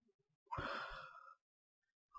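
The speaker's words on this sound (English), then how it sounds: "The yawns. The recorder's yawns." A person yawns once while recording a session of Elder Scrolls IV Oblivion, a drawn-out breathy exhale close to the microphone, followed by near silence and a brief soft noise at the end.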